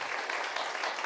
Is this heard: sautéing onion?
no